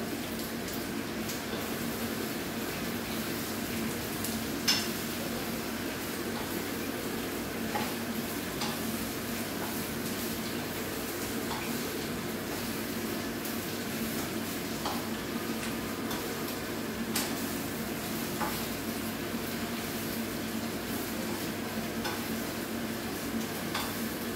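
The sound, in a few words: stirring meat, onions and potatoes in a pan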